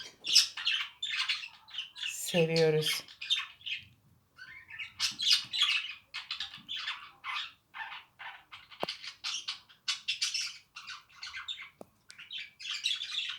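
Doves and pigeons chirp and tweet in quick, busy bursts close by indoors, with one harsh, harmonic squawk early on and a brief spoken word.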